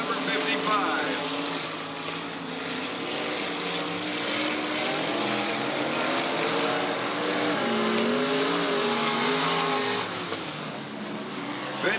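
Race cars roar around the oval at Southern Oregon Speedway, a dense, continuous engine drone with rising and falling pitch as cars pass, steady and loud, overlaid by a public-address commentator's voice.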